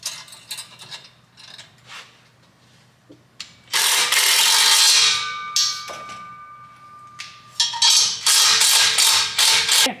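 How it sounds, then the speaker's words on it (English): A flat strap clamp being tightened onto a turbo downpipe during a Cummins compound turbo install on a 3rd Gen Dodge Ram, with scattered clicks and taps, then bursts of loud metallic ratcheting and scraping close by. "I'm just going to grab a flat strap clamp and attach it to the downpipe."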